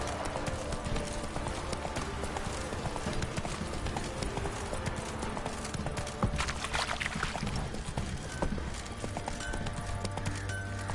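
Steady clip-clop of horse hooves trotting on and on in The Witcher 3: Wild Hunt, with a continuous noisy background and no voices.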